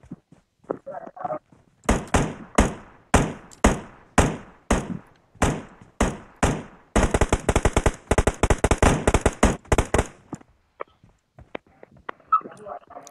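Gunfire in the PUBG video game: a run of single, evenly spaced loud shots gives way to a rapid automatic burst, then the shooting stops.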